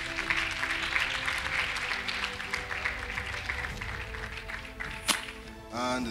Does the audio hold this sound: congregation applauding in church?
yes